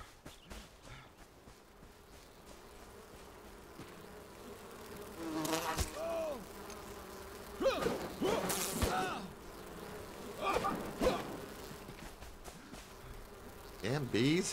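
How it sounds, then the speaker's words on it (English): Bees buzzing in the video game Enshrouded: a constant, quiet insect drone that swells in short bursts, with a voice speaking faintly at times. "Damn bees, come on."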